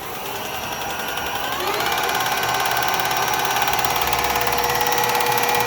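A Clausing Colchester 13 x 30 engine lathe spins up on variable speed, its steady mechanical whine climbing in pitch over the first two seconds and then holding as a loud, even hum.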